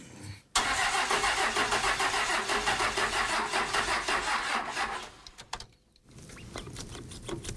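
A diesel ramp truck engine cranks over slowly with a steady, labouring rhythmic churn for about five seconds, stops, then briefly turns over again.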